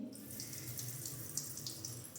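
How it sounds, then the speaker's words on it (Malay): Water gushing steadily from a household tap during a check of its flow pressure, a continuous close splashing rush with a few brighter splatters, no voices. "Cuba buka sekejap paip nak tengok air dia laju tak."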